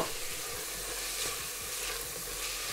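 Tomatoes sizzle and crackle in a pan with sautéed garlic and onion, giving a steady, close frying hiss throughout with soft stirring.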